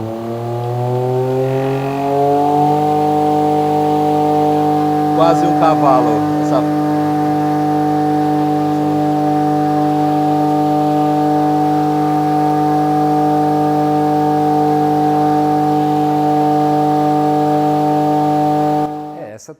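A Keppe Motor drives large fan blades at up to about one horsepower, spinning up to a steady, loud tonal hum that holds constant for many seconds, with someone speaking briefly over it.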